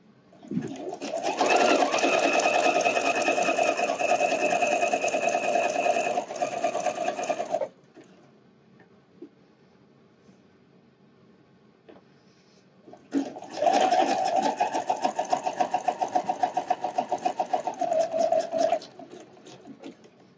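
A sewing machine stitches elastic on a wireless bra in two long, steady runs of close, loud whirring, separated by a quiet pause of several seconds.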